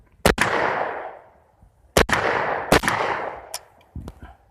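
Gunfire at an outdoor shooting range: loud, sharp shots, a pair near the start then a quick cluster of three or four, each followed by a long ringing echo decaying across the range.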